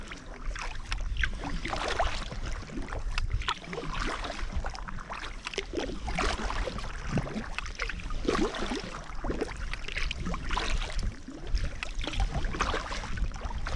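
A kayak paddles across open sea, with repeated close paddle strokes splashing and dripping in a steady rhythm over continuous wind and water rush.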